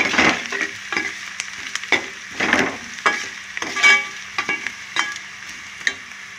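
Onions frying for a mutton chana dal curry, sizzling steadily while a spoon scrapes and stirs the pan in repeated, uneven strokes, close and fairly loud with no voices.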